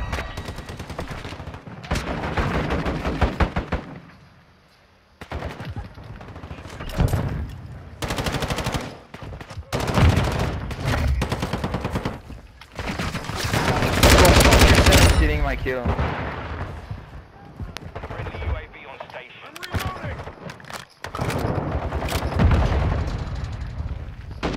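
Call of Duty Modern Warfare II multiplayer firefight on Mercado Las Almas in Hardpoint mode, with repeated loud bursts of automatic gunfire and sharp single shots, stopping briefly, then resuming through the scene, with a voice talking in between.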